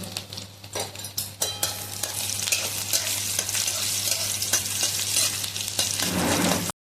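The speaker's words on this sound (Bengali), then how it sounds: "এবারে একটু রসুন কুচি দিয়ে দেবো, আর আদা কুচিটাও দিয়ে দেবো।" Chopped garlic and ginger hit hot ghee in a kadai on low heat and sizzle loudly and steadily, broken by spoon-stirring scrapes close up, with no talking.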